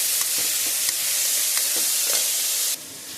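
Tomato, garlic and onion sautéing in a pan with dried and green chillies, a steady close sizzle broken by light stirring scrapes, cutting off abruptly near the end.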